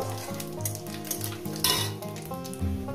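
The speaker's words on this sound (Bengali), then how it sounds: "শুকনো লঙ্কা 5 ফোড়ন। কয়েক সেকেন্ড ভেজে নেব।" Dry red chillies and five-spice seeds frying in hot oil for a radish and spinach chorchori make a close, continuous sizzle with a few light clinks of utensils, over a steady tonal background.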